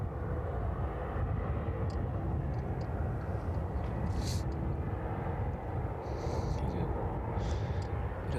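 An aircraft taxis toward the DHL apron at East Midlands Airport, a steady broad engine rumble and hiss that holds at a moderate distance throughout, with faint higher whines drifting over it.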